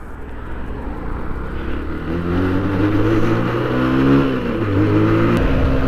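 A TMEC 125 enduro motorcycle accelerates hard toward top speed, its engine droning loud and close as the pitch climbs through successive gears, with a continuous rushing wind roar underneath.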